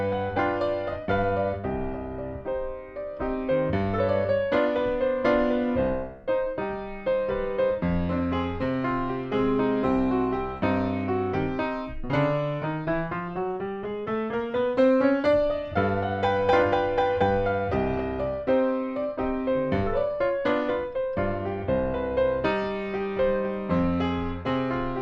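Solo piano plays a lively ragtime tune with bouncy left-hand bass under a syncopated melody, clear and close for the full stretch with no voices.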